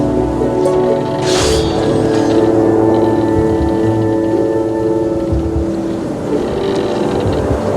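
A small boat chugs steadily across open water in What Remains of Edith Finch, a continuous low engine drone with wind and water wash, close and fairly loud, with a brief splash-like rush near the start.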